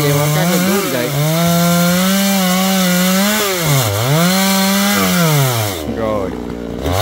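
A chainsaw cutting large coconut and jackfruit trees, its engine droning loud and close with steady pitch, dipping briefly under load and then revving back up.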